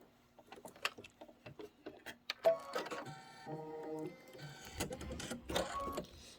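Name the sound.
embroidery machine stitching foam tack-down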